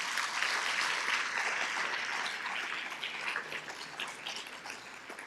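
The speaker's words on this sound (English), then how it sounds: "so let's give them a big round of applause as well" Audience at an evening Sages Over 70 event applauding the event team, a dense sustained patter of many hands clapping that gradually thins and softens over about five seconds.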